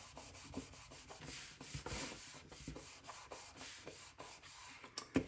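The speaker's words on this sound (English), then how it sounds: "I just turn the whole envelope over and give that a good rub." A hand rubs firmly back and forth over a glued paper envelope, giving soft, dry, rhythmic rubbing strokes that are close and fairly quiet, with a sharper rustle near the end.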